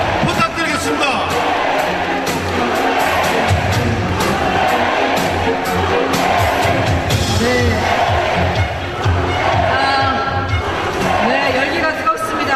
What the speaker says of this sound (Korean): 자, 뜨거운 박수 부탁드리겠습니다.